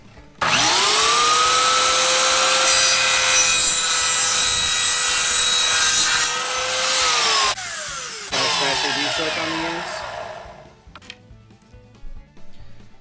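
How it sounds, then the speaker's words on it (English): A miter saw spins up with a rising whine, holds a loud steady tone while cutting a pool noodle, bogs slightly, then spins down and falls quiet, with light handling clicks after. "When you do your saw, you want to go nice and slow if you're using a miter saw."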